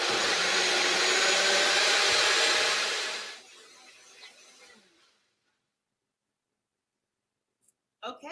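A Vitamix blender whirs loudly while blending curry sweet potato bisque, running for about three seconds before winding down and stopping, then a few small clicks and a quiet pause.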